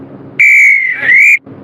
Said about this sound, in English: So there goes the half-time whistle